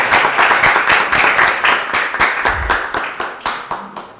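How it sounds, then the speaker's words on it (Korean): Audience applause welcoming the president of a local council as she comes up to give opening remarks at a university student debate contest on peace and unification, a dense, steady clapping from a crowd that holds throughout and fades slightly at the end. "모두 따뜻한 박수로 환영해 주시면 대단히 감사하겠습니다"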